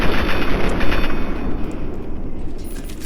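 An automated turret fires in Fallout 3: a dense, continuous rattle of rapid gunfire, loud and close, sustained for the whole stretch without a break.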